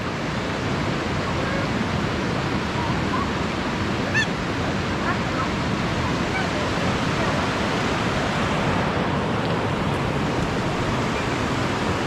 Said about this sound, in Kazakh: Мынау міне нағыз бұлақ таудың басынан ағып жатқан.